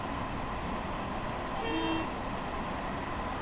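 An AI-driven train sounds its horn in Train Sim World 6 on the New York City to Stamford route, a brief tonal blast around the midpoint, rising over a constant rumble of rail and engine noise.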